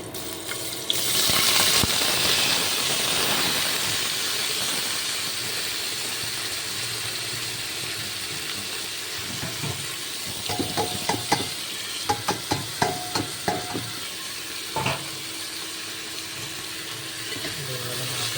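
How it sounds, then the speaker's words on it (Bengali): Potatoes frying in hot oil in a home kitchen for a Bengali potato chhenchki, a steady close sizzle and crackle throughout with a few sharp clinks of a utensil stirring the pan near the end. "তেল গরম হয়ে গেছে এবার আমরা আলুগুলোকে দিয়ে দেব"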